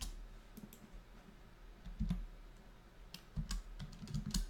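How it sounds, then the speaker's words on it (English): Keys clack on a computer keyboard in short, irregular bursts of clicks, close and fairly quiet, with the strokes growing denser toward the end. "I push the Enter key on my keyboard"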